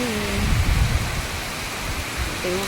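Strong, steady typhoon wind roars through the whole stretch with deep gusty rumbles, and a voice is briefly heard at the start and end.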